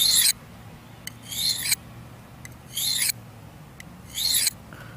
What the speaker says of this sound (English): you would just draw the blade in even strokes, just like you would any other sharpening stone